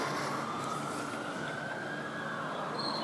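An ambulance siren wails in a long, slowly rising tone, heard from some distance over steady background traffic noise.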